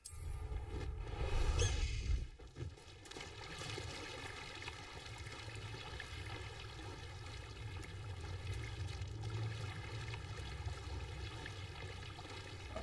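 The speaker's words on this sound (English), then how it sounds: "Let's get out of this water here." Splashing and sloshing through water in the Hogwarts Legacy video game, a steady trickling wash with a louder swirl in the first two seconds, then an even flowing stream under constant game ambience.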